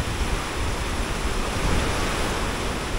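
A river flowing strongly beneath a bridge in Kutaisi, a dense, loud, continuous rushing roar of water with no pauses and no talk.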